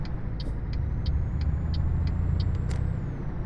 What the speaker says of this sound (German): Ah, jetzt gibt er Gas.